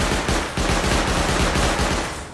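Turrets hidden in a wall at a monument in the video game Rust fire loud, rapid automatic gunfire, a continuous stream of sharp close shots with a brief pause partway through, and no talk.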